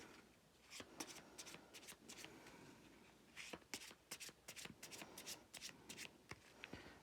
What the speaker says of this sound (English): we can shuffle up the cards